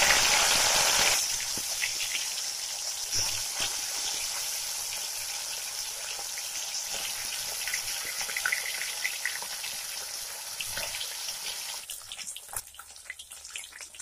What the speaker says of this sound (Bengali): সর্ষের তেলটা গরম হয়ে গেছে, তেলে ধোঁয়া উঠবে। তারপর মাছগুলো আমি আস্তে আস্তে তেলের মধ্যে দিয়ে দেব।